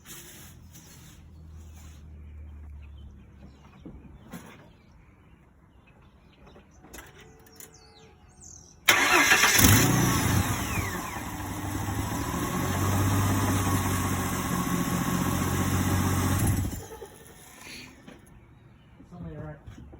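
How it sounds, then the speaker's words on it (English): A 2004 Ford Mustang V6 with freshly replaced valve cover gaskets cranks and fires, then idles loud and close for about eight seconds before shutting off, with talk before and after. "now we're gonna start it up, make sure she sounds good"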